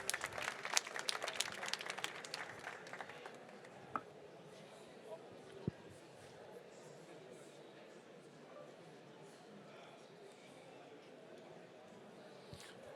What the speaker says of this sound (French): On peut l'applaudir, Frédéric Tréfroy, s'il vous plaît.